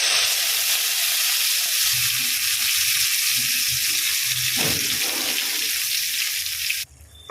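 Spice-coated boiled eggs frying in hot oil left from browning onions, giving a loud, steady, close hiss and sizzle for several seconds, with a few soft stirring knocks, before the noise cuts down sharply at the end.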